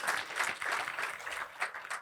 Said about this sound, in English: One round of applause for Tanisha.